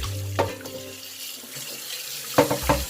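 Tap water runs steadily into a sink while raw oxtail, rinsed with vinegar, is washed by hand. The flow is close and constant, with a few splashes and knocks of meat against the basin.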